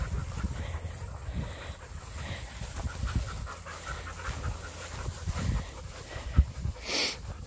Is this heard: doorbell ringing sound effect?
no